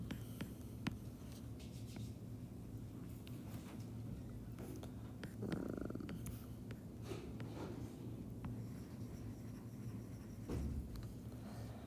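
A physiology lecturer sketching a diagram on a board, producing faint, sparse scratchy marker or chalk strokes spread across a low steady room hum, quiet and slightly distant.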